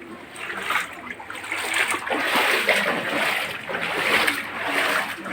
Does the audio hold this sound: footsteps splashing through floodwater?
yes